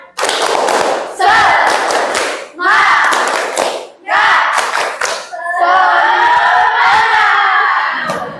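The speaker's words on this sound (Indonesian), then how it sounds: "Tepuk semangat." A school class does a rhythmic spirit clap (tepuk semangat) in a classroom, with loud group clapping and children shouting together in four short bursts, then a longer, sustained chanted phrase.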